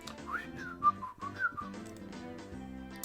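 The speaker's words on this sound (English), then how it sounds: "Satoko was whistling while Rao deliberately tried to avoid eye contact" A melodic whistled tune with sliding pitch, carried over soft background music in the soundtrack of the game Higurashi Chapter 1 (Onikakushi), moderately loud.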